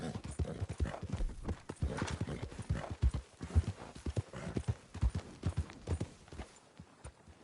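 Horse hooves clip-clop steadily in Red Dead Redemption 2, a close, irregular run of hoofbeats on ground over several seconds with faint ambient sound between strikes.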